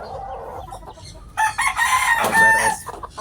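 A rooster crows loudly and close by while chickens cluck softly beforehand, the crow rising sharply in the middle and trailing off at the end.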